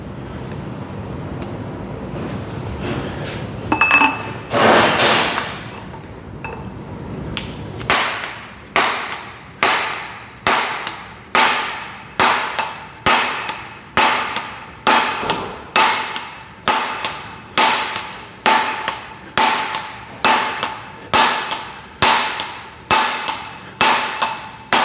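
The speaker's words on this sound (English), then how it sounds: "Yeah, I definitely got to go to a bigger hammer because it has a tighter fit at the base." Hammer blows drive a part onto the base of an engine camshaft where it fits tightly, about two dozen loud, close metallic strikes in a steady rhythm after an uneven start, with no talking.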